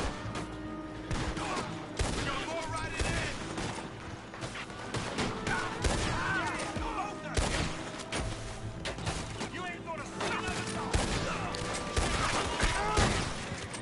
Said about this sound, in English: Now your boy Arthur don't play about that gunfire.